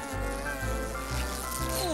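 A cartoon bee sound effect: a dense, close buzzing drone with wavering pitch, like several bees circling a fallen tree, steady and loud throughout without speech.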